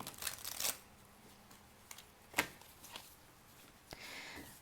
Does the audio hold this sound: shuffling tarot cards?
yes